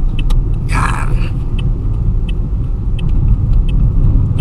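A manual-transmission car driving slowly on a bumpy road during a driving lesson gives a steady low rumble from the cabin throughout, with a brief higher noise burst and faint clicks over it.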